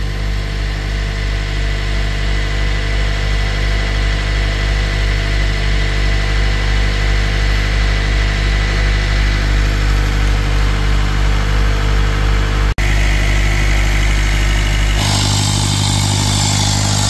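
A Mitsubishi Pajero engine idles steadily and loudly at close range while its turbo is cleaned with Blackcore fluid, with a brief click and a change in tone near the end.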